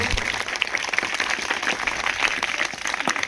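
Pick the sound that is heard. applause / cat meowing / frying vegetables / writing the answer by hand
applause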